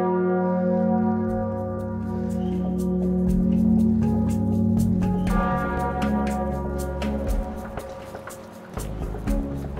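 The bells of Rodez Cathedral ring out, with repeated resonant metallic strikes overlapping into a sustained, humming peal, loud and close, running continuously without talk.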